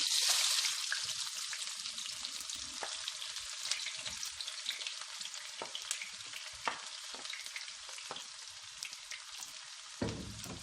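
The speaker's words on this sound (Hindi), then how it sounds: "प्याज को हल्का सा फ्राई कर लेंगे।" Onions fry in a pan with a steady, close hiss and sizzle, sprinkled with small crackling pops and a brief clatter near the end.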